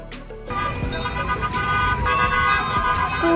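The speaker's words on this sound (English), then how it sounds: "School bus, a bus used to transport students to and from school." A school bus idles with a steady engine rumble while its horn sounds in sustained toots over it, close and fairly loud throughout, without any speech.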